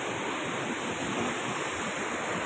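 Rushing river water below a swaying hanging bridge near Dawara Falls, a steady dense roar of broadband noise filling the whole clip without pause.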